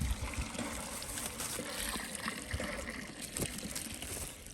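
Cold, clean water runs freely in a stream in an African village, a steady close rushing and trickling with no pauses.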